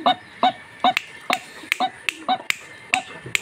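A one-year-old pet bird gives a series of about nine sharp, honking call notes at a regular rhythm, loud and close, with quiet gaps between them.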